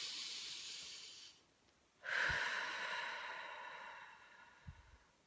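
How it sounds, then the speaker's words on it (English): A single deep breath taken close to the microphone: a quiet inhale, a pause, then a long, strong, airy exhale that gradually fades, with a faint nasal puff near the end. "Okay, deep breath."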